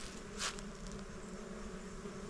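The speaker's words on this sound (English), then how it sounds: "listen at the bees right here. Y'all hear that?" Bees or yellow jackets buzz in a steady outdoor drone during a hunting outing, with a brief louder burst as one flies close to the microphone.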